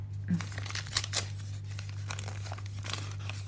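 A package of trading cards sealed with paper tape is unwrapped: close, quiet crinkling and tearing of paper in uneven bursts over a steady low hum.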